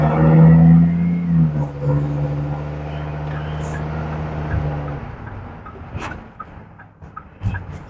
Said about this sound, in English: I'll just let you listen to the engine